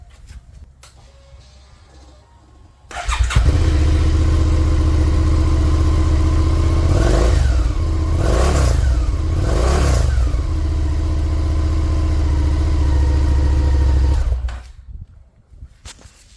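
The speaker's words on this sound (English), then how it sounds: "I'll start her up just with the stock exhaust" A 2021 Suzuki SV650 motorcycle with its stock exhaust fires up and settles into a loud idle, with several sharp revs in the middle before it cuts off, close by.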